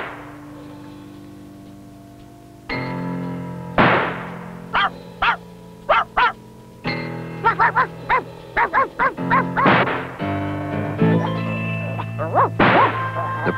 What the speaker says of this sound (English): A frightful dog appeared close beside him.